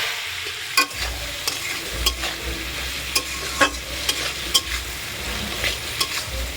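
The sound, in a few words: fish oil chachchari cooking in pan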